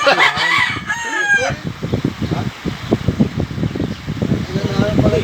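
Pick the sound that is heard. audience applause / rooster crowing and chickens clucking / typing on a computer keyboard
rooster crowing and chickens clucking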